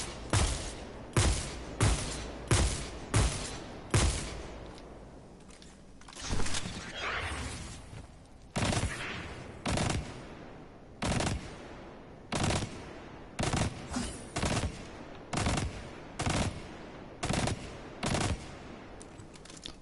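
Loud, evenly spaced bursts of assault rifle fire shooting tiles during a Destiny-style raid in a video game, repeating in short volleys with brief pauses between them, close and dominant.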